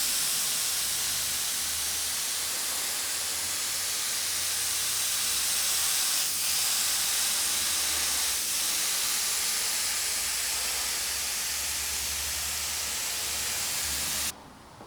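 An airbrush sprays orange paint in a steady, continuous hiss that holds at an even level for nearly fifteen seconds before cutting off abruptly at the end.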